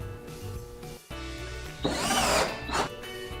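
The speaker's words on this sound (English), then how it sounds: "drill a hole for the light wiring" Power drill boring a hole for light wiring during an elevator ceiling installation, a short whirring burst with a louder grinding surge midway, close and alone.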